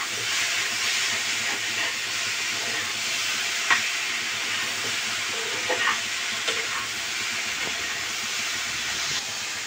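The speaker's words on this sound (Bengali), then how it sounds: "এভাবে একটু নেড়ে চেড়ে নিতে হবে খানিকক্ষণ।" Snails coated in turmeric fry in a pan with a steady, bright sizzle and hiss, while a spatula stirs them in with a few soft scrapes and clinks.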